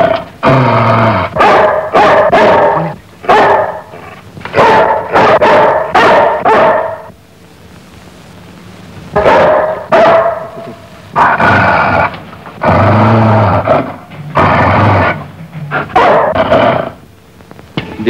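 A dog barks and growls loudly and close in a classic Pakistani film, with bursts of rapid repeated barks, a short pause, then more barking and snarling continuing in uneven clusters.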